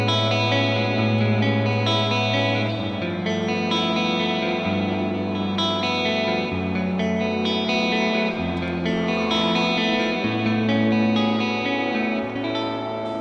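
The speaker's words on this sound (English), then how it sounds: "Using a clean American style amp with a whole reverb and a touch of tape delay" Sustained electric guitar chords through a clean American-style amp ring out with lush reverb and echoing tape delay trails, a smooth wash of sound with no voices.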